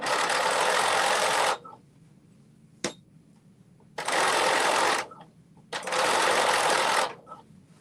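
A sewing machine stitches fabric in three loud, steady bursts of rapid mechanical whirring, each one to two seconds long, with short quiet pauses and a faint click between them.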